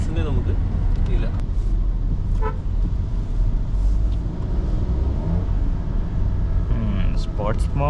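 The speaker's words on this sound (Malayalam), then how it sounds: "എഞ്ചിൻ സൗണ്ട്സ് ഒക്കെ മാറി." A 2025 Kia Syros HTX+(O) with a 1.0L turbo engine and DCT gearbox is driven in sports mode. Its engine gives a steady low rumble heard from inside the cabin, under continuous talking.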